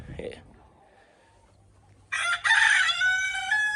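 A backyard rooster crows loudly and close after a brief cluck, with hens nearby in the background; no talk over the crow.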